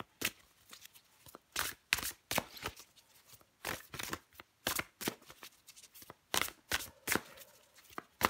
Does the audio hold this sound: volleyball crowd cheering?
no